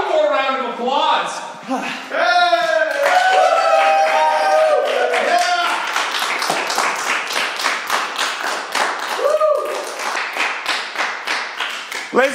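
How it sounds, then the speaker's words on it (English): An audience at a late-night talk show in Edmonton claps for a performer. A musical passage comes first, then several seconds of close, sharp, rhythmic clapping that fades unevenly toward the end. "one more round of applause"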